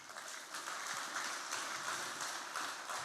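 Steady applause from a church congregation, a continuous dense patter of many hands clapping at moderate volume throughout, with no clear speech.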